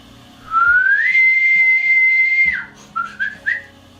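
A loud, drawn-out whistled call imitating an elk bugle, rising from low to a high sustained tone, then breaking into three short high yelps.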